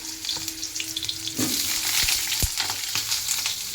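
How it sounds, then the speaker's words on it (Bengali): Potatoes and vegetables fry in a hot pan at home, with a loud, steady close sizzle and a few sharp taps and scrapes of stirring. "চলো একা একা সবজিগুলো সব ভেজে নিই ধোয়াই রয়েছে ধুয়েই রেখেছি অলরেডি আলুটা দিয়ে দিই"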